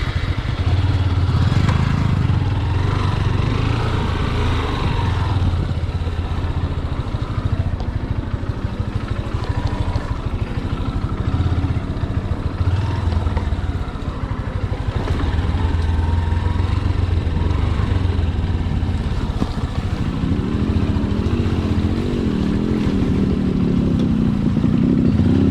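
An RX100 and a Hornet 160-R motorcycle ride off-road near a paddy field, engines droning and revving steadily up close with clattering over rough ground, building louder toward the end; faint voices appear briefly.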